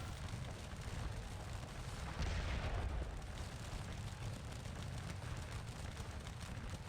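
Artillery fire in the Napoleonic battle game Scourge of War Waterloo, a dense rumbling wash of distant booms and battle noise with a heavier burst partway through.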